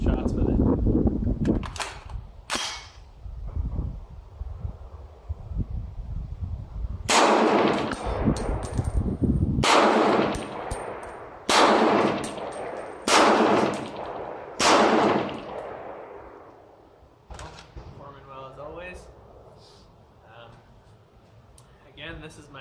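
A BCL-102 rifle with an A2 stock fires a string of loud, close gunshots, first singly and then in quick bursts, with echoing tails between them.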